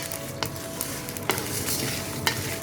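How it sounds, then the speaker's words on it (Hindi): Whole spices are dry-roasted in a pan for chicken karahi, a soft continuous sizzle punctuated by a few crisp scrapes of a spoon stirring them. "इनको अच्छी तरह हम भून लेंगे"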